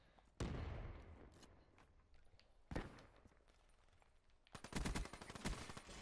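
Bursts of gunfire from SMGs in a first-person shooter match ring out as sharp volleys, one early, one midway and a rapid stuttering string near the end, with quieter stretches of footsteps and movement between.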